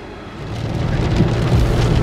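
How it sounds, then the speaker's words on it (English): Heavy rain pours down in a dense, steady roar in northeast Thailand, growing slightly louder, with a low rumble beneath it and no voices. "it's raining so hard"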